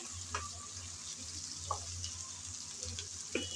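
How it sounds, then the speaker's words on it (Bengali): Ginger-garlic paste frying with onions in a pan gives a steady, close sizzle, broken by a few sharp spoon scrapes and clicks; no one speaks. "আদা রসুন ভেজে নিলাম পেঁয়াজের সাথে।"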